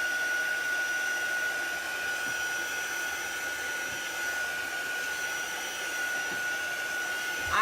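A heat dryer blows steadily and close with a constant whine and airy rush while drying chalk paste ink, running without pause or talk.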